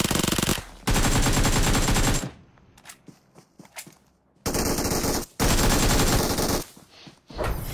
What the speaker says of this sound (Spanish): Tira con arma, sin apuntar.